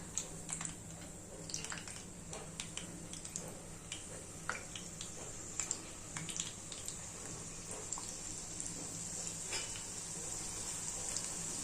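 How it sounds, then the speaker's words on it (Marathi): Puri made with moong dal flour fries in hot oil, giving a quiet, even sizzle broken by scattered small crackles and spits. "आता आपण पुरी तळून घेऊया"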